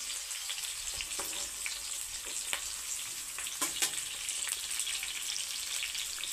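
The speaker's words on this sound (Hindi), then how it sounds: "तो प्याज मिर्चा को थोड़ा है तो भूजने दे, फ्राई होने देते हैं।" Onion and green chilli fry in a pan with a low, even sizzle throughout, with occasional faint clicks and scrapes from a utensil; no voices.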